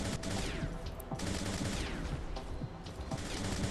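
Robots in the War Robots video game trade gunfire in a dense, continuous barrage of loud rapid shots and booms that runs steadily throughout without a break.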